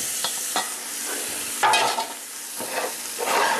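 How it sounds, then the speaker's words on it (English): Meat and beans for a Brazilian feijoada sizzle in a pot with softened onions and garlic while being stirred, giving steady frying hiss broken by repeated scraping strokes close by. "And stir it around a bit to pick up some of the taste from the onions and the garlic."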